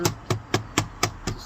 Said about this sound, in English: Give it a few whacks around the perimeter